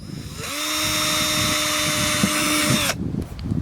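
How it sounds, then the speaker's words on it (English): A power drill whines loudly at a steady pitch for a couple of seconds as it bores into a plastic car bumper, then stops, leaving light handling noise. "It's scary drilling into a good bumper"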